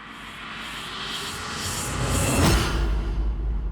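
A whooshing rise swells gradually in loudness over a few seconds, peaking near the end in a noisy airy surge.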